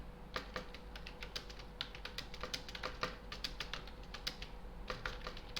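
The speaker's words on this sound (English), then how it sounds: "Now you can see whatever I type is falling within the text." Steady typing on a computer keyboard, a quick run of light clicking keystrokes with brief pauses, close and fairly quiet against a faint hum, with no voices.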